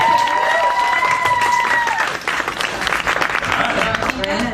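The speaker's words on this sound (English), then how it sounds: "Let's also just give another round of applause for Ellie for joining us today." Crowd applause at a live podcast taping at a fan convention, loud sustained clapping with some cheering, tones and voices mixed in underneath.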